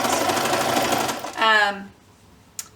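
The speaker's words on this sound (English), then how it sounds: "So now we're just going to sew this bias tape down." A sewing machine runs steadily, stitching bias tape down onto towel fabric, with a fast close whirring that slows into a brief rhythmic chatter before stopping, then a small click; speech is present.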